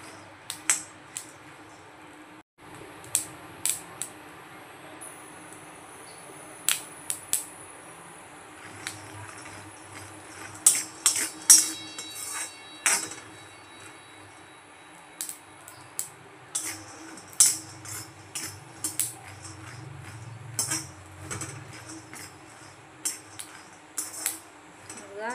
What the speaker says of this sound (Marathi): छान असे शेंगदाणे आपल्याला भाजून घ्यायचे